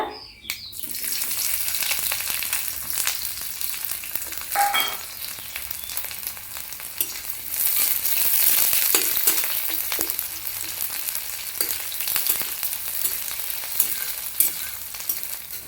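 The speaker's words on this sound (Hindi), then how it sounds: "एबे कटा पियाज पकेइबा।" Chopped onions fry in oil for a sukhua (dried fish) dish, a steady close sizzle that crackles on without a break, with occasional faint stirring scrapes and no talk.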